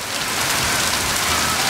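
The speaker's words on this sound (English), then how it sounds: "It is raining that hard." Heavy rain pours steadily during a thunderstorm in Parker, Arizona, a dense, close, continuous hiss of downpour with no thunder standing out.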